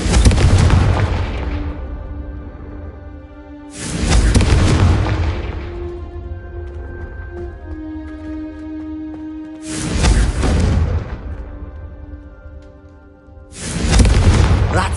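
Confringo fire spell blasts in Hogwarts Legacy, four loud booming explosions, each a sharp broadband burst decaying into a rumbling tail, spaced a few seconds apart with a tonal magical hum lingering between them.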